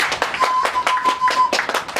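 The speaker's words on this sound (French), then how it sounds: "Applaudissez pour cette question." A few people clap in a quick, steady rhythm at a religious gathering. The claps are distinct and evenly spaced over two seconds, and a faint steady tone runs underneath.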